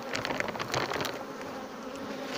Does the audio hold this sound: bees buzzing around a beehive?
yes